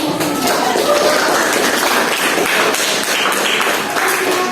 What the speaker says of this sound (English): give applause for my